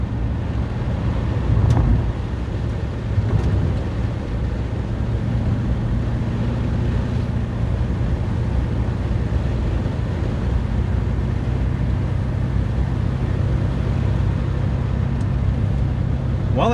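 A Porsche 944 with a swapped 6-liter LS V8 cruises at a moderate, steady speed. A low engine drone and road rumble are heard from inside the car, with a couple of faint bumps and no talking.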